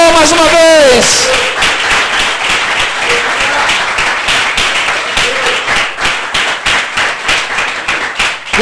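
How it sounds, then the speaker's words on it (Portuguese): A church congregation at a Sunday service breaks into loud, sustained applause, dense overlapping clapping filling the room after a brief spoken phrase, with scattered voices mixed in under the claps. "Pode aplaudir o Senhor mais uma vez."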